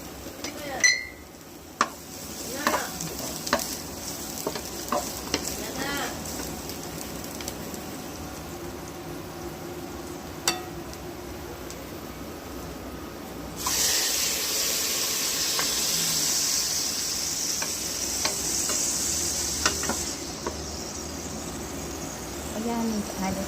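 Garlic hits hot oil and sautés with a sudden loud, steady sizzle for a chicken liver and radish dish, near and continuous, with someone talking and light utensil clinks.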